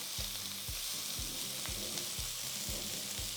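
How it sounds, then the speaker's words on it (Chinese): Continuous loud sizzle of pork belly pan-frying in its own fat over medium heat, with rhythmic low thumps of the pan or spatula every half second or so. "因为五花肉的这个油脂比较丰富，所以你不用再加油，逼出它天然的油脂。"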